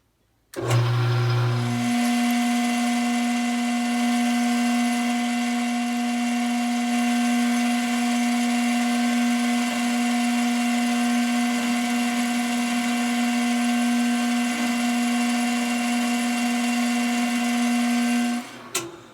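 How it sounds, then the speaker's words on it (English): A drill bores an air hole through a wooden Danish-style tobacco pipe, a loud steady motor whine with a strong tonal hum sustained nearly twenty seconds before cutting off. "Okay, my air hole is now drilled."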